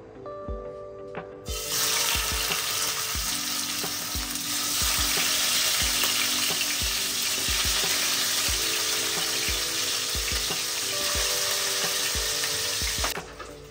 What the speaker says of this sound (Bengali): পুরো কড়া কড়া মাছ ভাজা